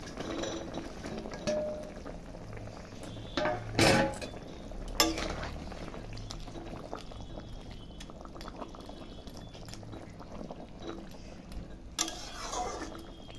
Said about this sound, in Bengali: ফুটে গেছে দেখো টকবক করে, এখন মাছগুলো দিয়ে দিব।